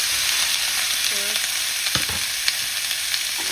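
Pork belly fries in oil with a steady, close, dense sizzle, broken by a few soft stirring clunks.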